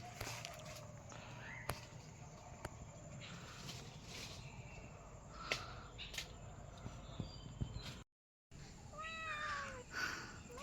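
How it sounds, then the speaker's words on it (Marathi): A cat meows several times near the end, short rising calls close by, over a steady outdoor background with birdsong and scattered knocks around a house in rural Khed, Ratnagiri, Konkan. "मांजर बघा."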